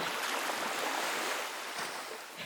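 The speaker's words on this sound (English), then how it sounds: "Try adding some natural sounding atmospheric effects if you have waves crashing in" Ocean waves crashing as an atmospheric sound effect, a steady broad wash of surf noise with soft swells, continuous and fairly close with no voices.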